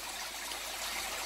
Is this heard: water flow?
yes